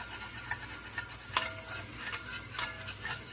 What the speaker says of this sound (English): when I'm stirring this, I'm scraping the bottom